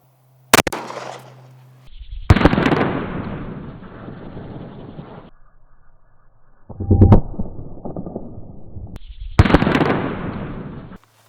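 A 9mm Glock 19 fires at a bulletproof Humvee windshield: a sharp crack followed by several loud booming, rumbling blasts with long reverberant tails, echoing outdoors, no voices.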